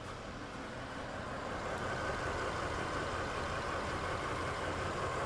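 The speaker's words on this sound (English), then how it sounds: "Still no difference in the way the engine's running." A 1999 Toyota 4Runner engine idles with a misfire on cylinder 2, a steady, close, moderately loud rumble that holds evenly throughout with no talking.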